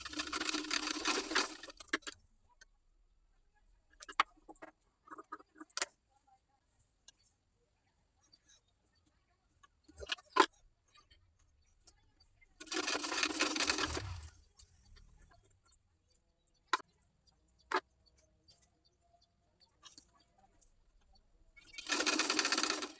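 A sewing machine stitches a crosswise-cut neck strip in three loud bursts of rapid whirring, separated by quiet stretches with scattered clicks and handling taps.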